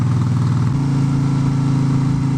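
A car engine fitted with new aftermarket exhaust pipes idles loud and close, its deep rumbling pulse shifting to a steadier, smoother drone partway through.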